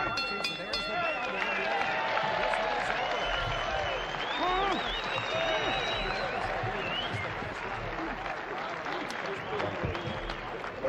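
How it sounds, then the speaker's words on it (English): A boxing crowd applauds and cheers at the end of a fight, dense clapping and crowd noise with voices and whistles mixed throughout, steady and loud. "Let's have a nice round of applause for these 2 warriors."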